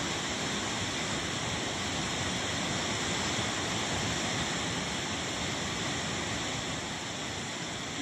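A mountain river in flood during the monsoon in remote, hilly Sikkim roars past in spate, giving a loud, steady, broadband rush of churning water that never lets up and has no voices over it.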